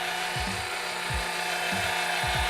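An Orbitalum RPG 4.5 tube facer machines the end of a tube, giving a steady broadband whirring grind with recurring low scraping sweeps as the cutter turns, loud and close, with no voices.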